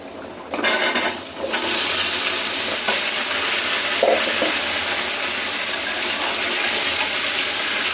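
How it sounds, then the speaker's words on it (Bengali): Sweet pumpkin tipped into fried onions in a pan, a sudden loud hiss and splash as it lands, then a steady broad sizzle with a light utensil scrape, no voices. "পেঁয়াজটা হয়ে গেছে, এখন মিষ্টি কুমড়াটা দিয়ে দিব।"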